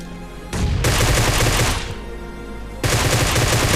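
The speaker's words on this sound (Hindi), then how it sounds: "इधर के ओर से फायरिंग आ रहा था अपार्टमेंट्स साइड से" Rapid automatic gunfire bursts in a battle royale shooter match, loud and close, firing in a long sustained stretch that briefly drops back, then resumes at full intensity with no talk.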